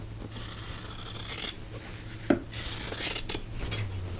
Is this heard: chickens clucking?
no